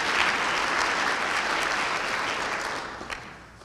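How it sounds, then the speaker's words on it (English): An audience at a school Teacher of the Year ceremony claps in a dense, sustained burst of applause that stays strong, then thins and fades out near the end. "Let's give them a round of applause."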